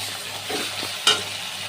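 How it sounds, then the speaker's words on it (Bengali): Chopped tomatoes frying in a pan with onion, garlic and ginger paste for a fish curry, a steady soft sizzle with a couple of stirring scrapes and one sharper clatter near the end, no talk. "আর এবার আমি টমেটো কুচিগুলো দিয়ে দেব।"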